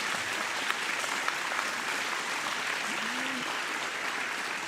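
Audience applause at a lecture event, a steady dense wash of many hands clapping at a moderate distance, with a brief voice rising faintly beneath it.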